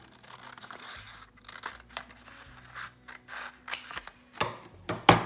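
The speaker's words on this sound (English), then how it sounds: "So now I'm just gonna cut away where this flap started." Scissors cutting away a paper flap on a junk journal page pocket: soft crinkling and snipping at first, then several sharper, louder cuts near the end, close up with no voice.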